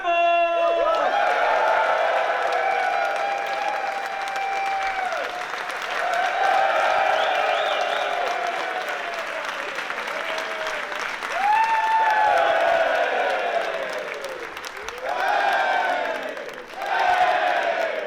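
A live audience at a Football Ramble podcast show applauds and cheers loudly and steadily, with whoops rising over dense clapping for the whole stretch and a few swells of louder cheering.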